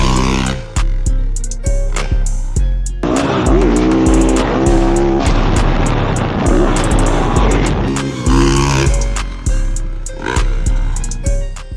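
A dirt bike rides up and launches off a dirt jump, its engine revving hard in repeated rising and falling throttle bursts, loud and close, with a sustained high-rev stretch in the middle.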